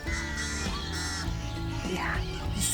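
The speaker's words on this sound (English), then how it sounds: "Can you hear all of the noises the birds are making?" Crows caw loudly and close over a marsh, several harsh calls in quick succession against a busy background of other bird noise.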